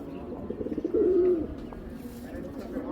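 Khaki homing pigeons cooing close by, a low burbling coo swelling briefly in the middle amid a steady murmur of other birds, with a voice partly mixed in.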